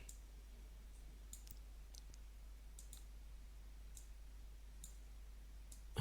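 A computer mouse gives about eight faint, crisp single clicks, spaced irregularly over a quiet background, with no talk.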